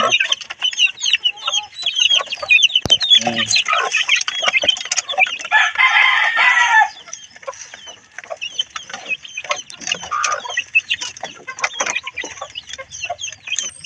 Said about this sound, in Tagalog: magpapakain naman tayo ng ating mga alagang manok kasi hapon na